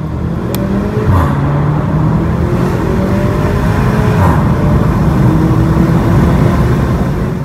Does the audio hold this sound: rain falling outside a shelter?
no